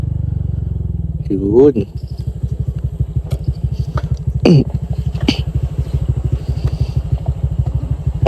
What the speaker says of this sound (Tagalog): So dito tayo magsa-sound check ng pipe natin.